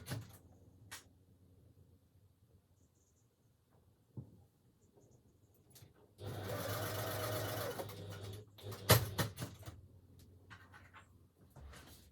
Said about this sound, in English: So I'm just going to go and stitch these quickly and I'll be right back.